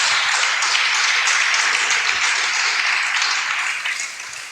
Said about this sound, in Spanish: Dele palmas fuertes al Señor.